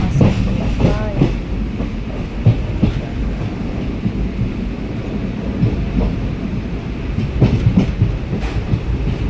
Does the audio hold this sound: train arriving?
yes